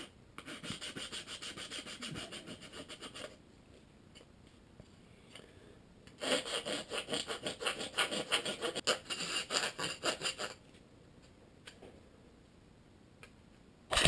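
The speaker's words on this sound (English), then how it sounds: "Use the chisel on the sides to make it more smooth." A chisel rubbing along the sides of a Honda Accord headlight housing during a retrofit, two spells of rapid rasping scrapes, close and fairly soft, separated by quiet pauses.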